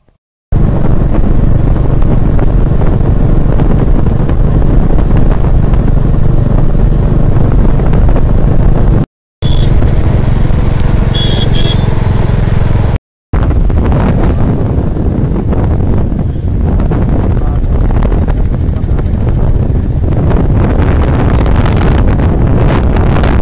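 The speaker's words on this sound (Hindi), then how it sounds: "ये देखिए हमारा बाइक लगा हुआ है, इसी से जाने वाले हैं।" Wind roars steadily across the microphone during a motorbike ride, a loud broadband rush with a low engine rumble beneath and two brief dropouts.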